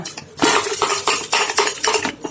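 Boiled eggs rattle and knock inside a pressure cooker as it is shaken in steady back-and-forth bursts, a loud, close clattering with no talking.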